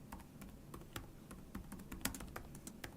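Fingers tap quickly on a computer keyboard, a close, quiet run of irregular clicks and clacks with a few firmer keystrokes standing out.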